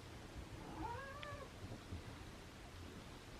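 Cats meowing for their dinner: a single drawn-out meow with rising and falling tone near the start, fairly faint against a steady background hiss, then only quiet room noise.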